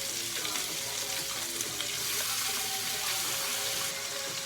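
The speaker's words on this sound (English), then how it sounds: "As it's cooking, the bacon grease can go into the skin, into the meat. A quick pan sear." Chicken pan-seared in hot bacon grease, a loud continuous close sizzle and crackle with steady intensity throughout.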